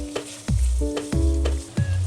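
Soya chunks and chillies frying on a low flame, a close sizzle punctuated by several sharp clanks of a spatula stirring in the pan, each followed by a brief low rumble, with no talk.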